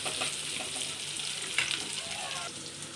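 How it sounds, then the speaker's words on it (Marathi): Onion frying in a little oil for a Kolhapuri kat vada, a soft, continuous crackling sizzle heard close up, with a brief splash-like burst partway through and no clear talk over it. "कांदा थोडंसं तेल टाकते आणि आपल्याला चांगलं भाजून घ्यायचं"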